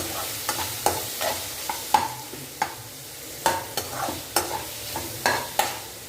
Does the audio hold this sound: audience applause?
no